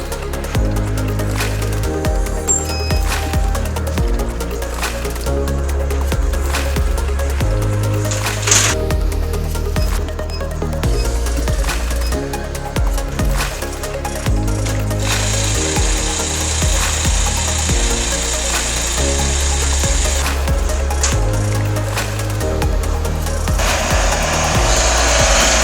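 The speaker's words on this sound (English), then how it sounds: "So I'm just going to set that up to cut it on the laser cutter" A laser cutter cuts parts for a limit switch, giving a continuous machine drone with shifting low tones, steady hiss and short clicks and bursts as it moves through the job, with no talking.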